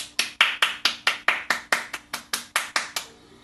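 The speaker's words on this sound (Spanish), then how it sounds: "Aplaudo de pie" Single pair of hands clapping in a steady, evenly spaced rhythm, about fourteen sharp close claps in a quiet room, stopping abruptly near the end.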